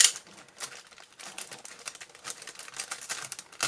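Scissors cutting through blue and pale green tissue paper, a quick run of soft crisp snips and crinkles, close and fairly quiet, with no talking.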